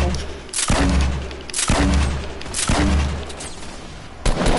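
Grenade explosions and gunfire in Fortnite sound as a series of heavy booming blasts roughly a second apart, loud and close, with rapid shots mixed in.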